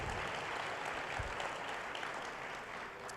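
A church congregation applauds in a faint, distant, even wash of clapping that continues steadily throughout without any clear voices.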